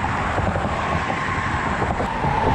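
Road traffic near a creek makes a loud, continuous broadband roar and hiss, with vehicles rushing past close by and no pauses.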